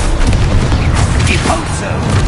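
Loud, dense magical explosion from a Confringo blasting curse in Hogwarts Legacy, a continuous booming rumble with crackling bursts layered over game sound.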